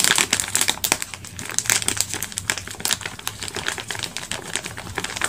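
A packet of batter flour is handled and emptied with loud, close crinkling of the plastic wrapper and rapid rustling that continues throughout.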